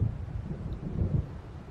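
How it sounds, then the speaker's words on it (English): Thunder from an approaching storm in Alan Wake, a short, low, rolling rumble heard at a moderate distance that swells and fades in soft waves, with no voices. "There's a storm coming."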